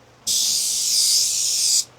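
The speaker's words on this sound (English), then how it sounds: "I got my clear coat and I can go ahead and start spraying it on" Spray gun or can applying clear coat to a repaired panel of a wrecked Jetta, a steady close hiss that starts abruptly, holds evenly for about a second and a half, then cuts off.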